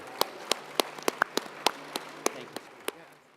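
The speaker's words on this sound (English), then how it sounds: "Please join me in a round of applause for our panelists." Applause for conference panelists after a defense discussion on Western Pacific operations: sparse, distinct claps spaced apart, fairly quiet and thinning out over a few seconds.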